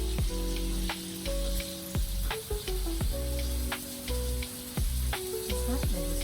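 Pork jowl slices frying in a hot pan give a steady, close sizzle with crackling pops and occasional sharp clinks and scrapes as pieces are arranged and flipped.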